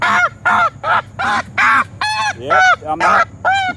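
A Sebastopol goose with a limp honks loudly and repeatedly while being handled, giving about eight close, harsh calls in a fairly even rhythm, with a few brief words spoken between them.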